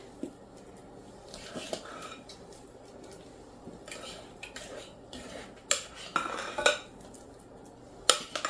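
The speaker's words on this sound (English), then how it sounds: "I'm going to take these mashed potatoes, scoop them out of this big bowl" Mashed potatoes being scooped out of a big bowl, with soft clinks and scrapes of a utensil against the bowl, quiet at first and then a few sharper knocks near the end, no talking.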